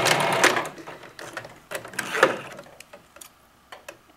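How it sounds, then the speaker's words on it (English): A domestic sewing machine runs in short bursts, stitching a brief hem along the top of a rounded fabric pocket and reversing at each end, with a close mechanical whirr and small pauses between runs. "I'm going to sew at the 15, just that short hem on the top"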